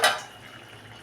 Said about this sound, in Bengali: এবারে মনে হচ্ছে হয়ে গেছে, ঢাকাটা খুলে,